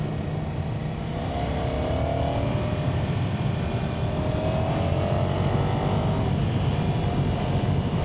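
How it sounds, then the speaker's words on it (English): A Ducati Streetfighter V4S being ridden on fast, twisty roads gives a continuous loud engine and exhaust roar with rising and falling pitch, mixed with wind rush throughout. "the exhaust note is absolutely intoxicating"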